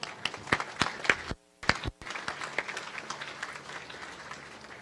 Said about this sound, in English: Ladies and gentlemen, please join me in a round of applause for the Naval Construction Battalion 11 Color Guard and the Navy Band Southeast